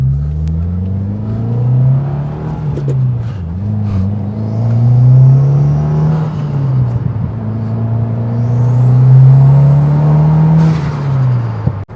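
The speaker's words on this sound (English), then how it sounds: "we're in the car, about to go for our first drive" A 2022-or-later Subaru WRX engine, fitted with a titanium front-mount intercooler kit, drones from inside the cabin, its low pitch rising and falling as it accelerates and eases off repeatedly, loud and steady throughout.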